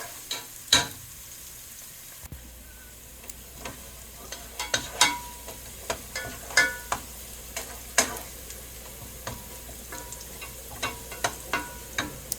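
Onions fry in a pan, browning toward a deep golden colour, with a low steady sizzle broken by frequent sharp clinks and scrapes of a spoon stirring against the pan.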